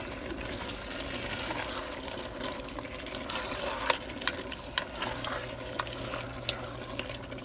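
Shrimp tossed into a pot of boiling water for spaghetti with mussels and stirred: a steady watery wash and bubbling with a few sharp clinks, close and moderately quiet, with no talking.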